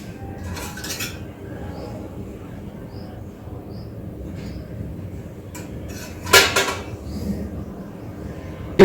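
A kadai that was used for roasting dal is set down and handled with utensils in a home kitchen, giving a few metallic clatters near 1 second and a louder clanking burst around 6.5 seconds over steady background noise.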